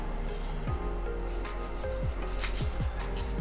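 A knife slices slits into whole onions, giving a series of short scraping cuts in an irregular rhythm over a steady background hum, close and fairly quiet, with no talk.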